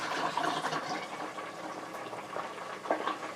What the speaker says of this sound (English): I have the white potatoes in water here. So I'm going to pour the water off.